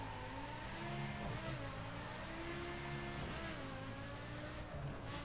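A Lamborghini Gallardo LP 570 engine in the racing game The Crew roars steadily and loudly for the whole stretch, its revs rising and settling in smooth waves with no talk over it.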